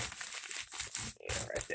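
A gift package sliced open with a blade, crinkly crunching and tearing of packing material in close irregular bursts, with a voice speaking briefly over it.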